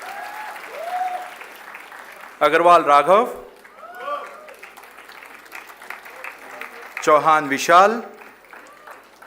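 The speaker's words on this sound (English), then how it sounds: "Students, kindly keep clapping for your fellow classmates." Students applauding at a convocation ceremony, two bursts of dense clapping from a large crowd, each a few seconds long, between stretches where names are read out over a microphone.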